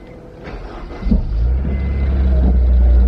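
A Honda S2000 engine cranks and fires up, then settles into a steady, loud idle rumble that continues up close with no talking.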